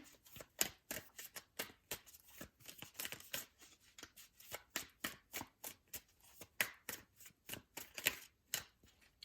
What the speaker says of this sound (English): So let's keep shuffling.